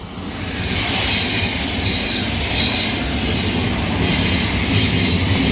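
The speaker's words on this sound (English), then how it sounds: "it's a freight train" Freight train rolling past close by in West Sussex in light rain, a loud steady rumble of wheels on rails with squealing and rhythmic clatter throughout, no voices.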